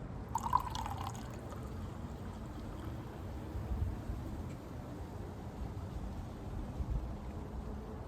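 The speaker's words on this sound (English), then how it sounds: "crack open my Coca-Cola now and just pour it in." Coca-Cola pours into a mixed drink in a glass, a soft steady fizzing and liquid trickle close by, with a brief clink early on and a low background rumble throughout.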